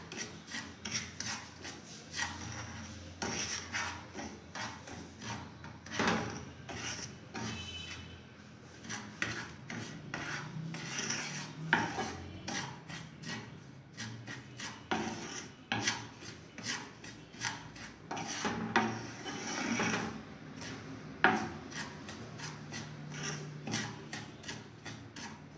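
Semolina being dry-roasted over low heat, with a spoon scraping and rasping steadily against the pan in quick repeated strokes, close and fairly quiet, with no talking.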